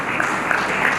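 A crowd at an Arya Samaj gathering in Agra applauds in welcome of Arvind Mehta, a brief burst of dense, steady clapping filling the hall.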